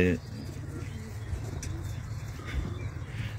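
Racing pigeons from several clubs coo softly in crates on a transport vehicle at Inani beach, Cox's Bazar, with a low rumbling background and a voice in the distance.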